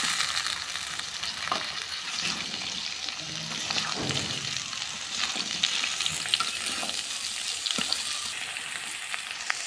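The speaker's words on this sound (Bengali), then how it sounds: "নাড়াচাড়া দিয়ে সুন্দর করে আমরা তরকারিটা ভাজে নেব" Onion and sweet pumpkin sizzle and crackle steadily in a hot pan, with occasional scraping of a spatula as they are stirred.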